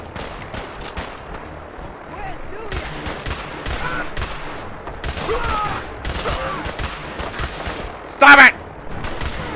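Pistol gunfire in Fallout 4 rings out as a rapid string of sharp cracks amid wider battle noise, loud and close, with a voice shouting over the shots.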